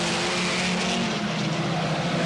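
Speedcars race around the dirt speedway at Sydney Showground, their engines roaring loud and continuous with a steady harmonic drone and gritty rasp, no voices over the din.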